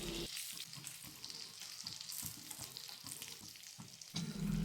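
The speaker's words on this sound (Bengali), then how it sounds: "মিডিয়াম ফ্লেমে এটা ভেজে নিতে হবে।" Fish frying in a pan over a medium flame, giving a steady, moderately quiet sizzle with some crackle that runs through the whole clip and swells louder at the end, with no talking.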